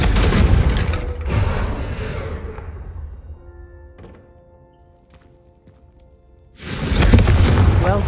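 Fiery spell blasts from the Confringo charm in the Hogwarts Legacy video game strike candelabras, loud whooshing bursts at the start and end with quieter crackle and game chimes between.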